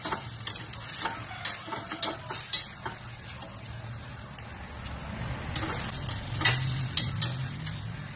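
Chicken liver stirred in a pan as soy sauce goes in, sizzling steadily under repeated clinks and scrapes of the utensil, close and moderately loud with no talking.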